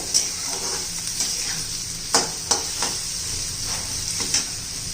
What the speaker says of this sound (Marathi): छान असा कांदा पण चांगला मऊ होईपर्यंत चांगला परतून घ्यायचा, कलर बदलेपर्यंत.